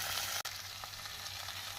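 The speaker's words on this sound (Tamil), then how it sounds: "கறிவேப்பிலை போட்டு நாம் வெண்டைக்காயையும் சேர்த்து விடலாம்" Okra sizzles steadily in a pan with chopped onion, green chilli and curry leaves, making an even close frying hiss with one brief soft clatter.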